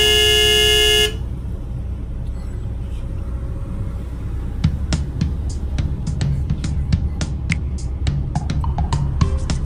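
Heavy car traffic in a busy Sunday parking lot at the Karuizawa outlet, Japan, with a steady engine rumble and repeated short car horn toots growing denser in the second half, one long loud horn blast at the start.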